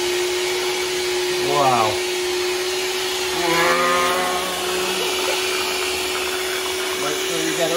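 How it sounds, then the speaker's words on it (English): An electric whisk whirs steadily as it mixes Yorkshire pudding batter in a home kitchen, a constant high motor whine with voices talking over it. "it's a crazy whisk"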